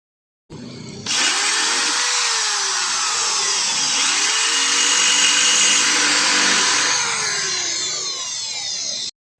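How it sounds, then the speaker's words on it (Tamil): A power drill whines steadily and loudly for several seconds, its pitch dipping as it bites into the metal of a rivet holding a number plate, then cuts off. "நம்ம இந்த மாதிரி ஒரு ட்ரில்லிங் மிஷின் வச்சு ட்ரில் பண்றோம்."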